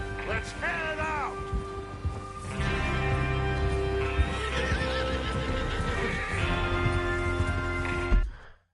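In the Red Dead Redemption video game on PS4, a horse gives a clear whinny near the start, followed by ongoing horse sounds and hoof clip-clops under talking voices.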